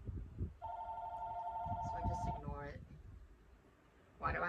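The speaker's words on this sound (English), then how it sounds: "That's a house phone. Nobody has that number. It just rings and rings and rings." A house landline phone rings with a sustained electronic trill, fairly faint and steady for a couple of seconds before breaking off, with a person talking softly around it.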